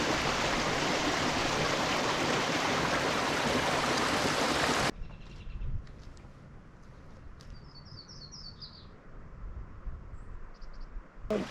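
Broadband rushing water, loud for several seconds, then fainter and steadier at a flat creekside campsite near Caples Creek in Eldorado National Forest, with a few bird chirps above the flow.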